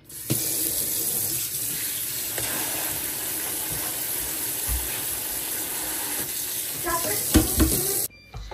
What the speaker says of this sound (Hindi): बल्कि स्वीट कॉर्न्स को ना जरा धो ही देते हैं।